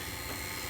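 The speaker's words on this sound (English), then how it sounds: "Vacuum pump is pumping." A vacuum pump hooked to the air-conditioning lines of an underdash unit on a 1964 Ford Country Squire runs with a steady, dense whir that holds an even level from start to finish.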